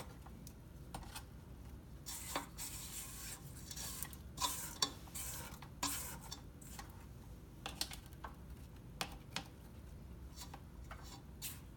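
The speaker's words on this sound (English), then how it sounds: "I'm going to scrape my bowl." A spatula scrapes a mixing bowl of cookie dough made with coconut oil, in short irregular scraping and tapping strokes, faint and close, with quiet gaps between.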